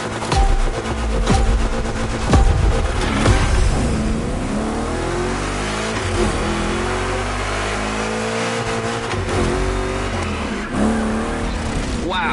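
Chevrolet 3100 Big Block engine in the racing game Motorfest, revving loudly and continuously with throttle swells and tire squeal through rough turns, a dense sustained roar throughout.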